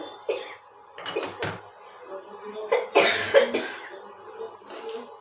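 A person in a home kitchen, where vegetable mung dal is being cooked, coughs several times in separate harsh bursts. One cluster is stronger near the middle, with quieter throat-clearing sounds between the bursts.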